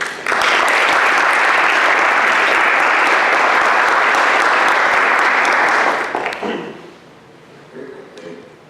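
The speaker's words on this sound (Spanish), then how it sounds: "les agradeceré un aplauso para ambas organizaciones de bien común" An audience at the opening of a 2018 literary forum in Asunción applauds two community-benefit organizations, a dense, loud burst of clapping that holds steady for about six seconds before thinning out and fading into quiet room sound.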